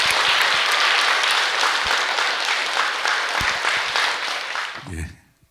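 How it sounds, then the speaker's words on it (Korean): Sustained applause from an audience at a Buddhist precepts ceremony held at Jeongbeopsa temple in Masan, steady and broad for about five seconds before fading out, with a brief voice at the end. "우리 친구에게 큰 박수 부탁드리겠습니다"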